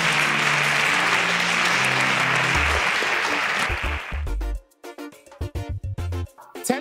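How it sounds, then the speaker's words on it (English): A studio audience on a televised quiz show applauds a departing contestant, a dense burst of clapping for about four seconds that cuts off abruptly into choppy, stuttering studio sound. "Please, a round of applause for Abdurrahman."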